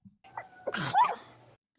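A single sharp human sneeze bursts out close and loud, preceded by a short inhaled buildup, during an online tabletop role-playing game session.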